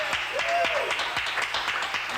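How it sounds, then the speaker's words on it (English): A crowd gathered outdoors gives a round of applause for the police, scattered hand claps heard close by amid voices and background noise, brief and uneven. "let's hear a round of applause for the police out here"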